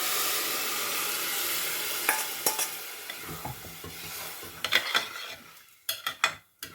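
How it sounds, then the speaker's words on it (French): Rice toasts in a pan with a soft steady sizzle while a utensil stirs and scrapes it, adding irregular clinks and knocks against the pan that grow sharper toward the end. "Là, j'ai bien grillé mon riz."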